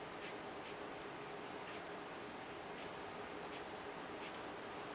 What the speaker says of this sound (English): Let's see if I can write upside down.